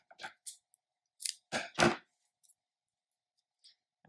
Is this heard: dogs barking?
no